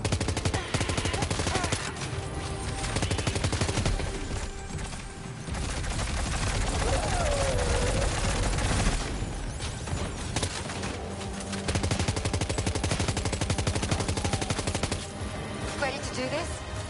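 Rapid bursts of automatic gunfire and single shots from a video game, Death Stranding 2, loud and sustained across most of the stretch, with brief lulls and faint game ambience beneath.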